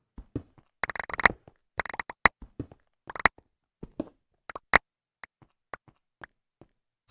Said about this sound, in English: OBS is not happy with the sound of those blocks being pulled in my inventory.